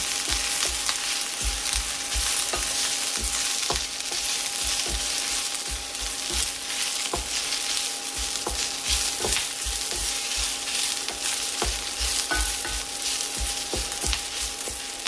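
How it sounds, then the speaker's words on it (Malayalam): Drumstick leaves sauté in hot oil in a pan, a continuous close crackling sizzle with regular soft knocks and scrapes of stirring throughout. "എണ്ണയിൽ തന്നെ മുരിങ്ങയില ഒന്ന് വഴന്നു വന്നാൽ മതി."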